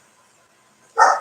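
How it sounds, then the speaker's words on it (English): A single short dog bark bursts out loudly and close at the very end after near silence. "that was my dog barking"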